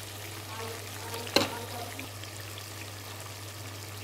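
Country chicken curry frying in a pan after chili powder goes in, a low faint sizzle with a single sharp clink of a spoon partway through.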